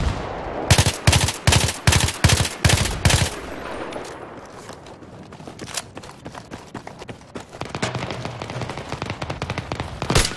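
Gunfire in Battlefield 3 on Xbox 360 opens with a loud, rapid burst of about eight evenly spaced shots, followed by quieter background ambience and scattered distant shots and clatter.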